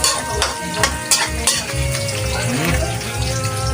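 Onion and garlic sautéing in a pan while cooking squid adobo, with steady close sizzling and frying crackle, and occasional stirring scrapes and clinks running throughout, no voices.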